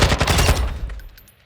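A rapid automatic burst of gunfire from the shooter game Call of Duty: Modern Warfare II, loud and close, then a fast fade into a short echoing tail.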